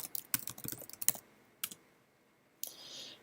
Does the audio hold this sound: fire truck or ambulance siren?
no